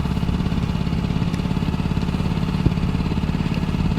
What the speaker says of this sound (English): You can hear it in the background that the motor is running.